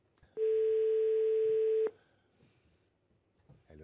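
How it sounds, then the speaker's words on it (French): A single steady ringback tone sounds for about a second and a half on an outgoing telephone call, loud and continuous against a quiet background. "Ça sonne chez David Veilly."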